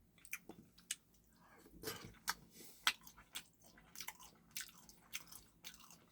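Close, quiet biting and chewing of soft potato in curry, a series of irregular wet squishes and small crunchy bites with brief pauses between mouthfuls.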